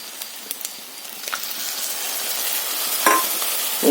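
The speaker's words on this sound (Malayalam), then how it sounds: "പച്ചമണം മാറുന്നിടം വരെ ഇളക്കി കൊടുക്കാം" Tomato paste stirred into onion masala frying in a pan for a Kerala prawn curry, heard as a steady soft sizzle and hiss with occasional light scrapes and clicks of the spoon, close and without speech.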